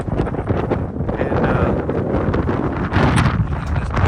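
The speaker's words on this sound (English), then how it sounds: "There you go, there's the wind. It is blowing, I don't know, it's blowing hard enough that it's pushing me back" Strong wind gusting at roughly 40 to 50 miles an hour at an excavation site, buffeting the microphone with loud, rumbling turbulence that surges and eases but never stops.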